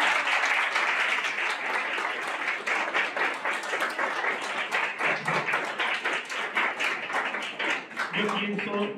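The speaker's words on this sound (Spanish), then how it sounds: "Un aplauso, por favor, para Isaac." Audience at an event on youth and agroecology breaks into sustained applause, dense clapping that fluctuates in intensity over several seconds, with a voice briefly audible near the end.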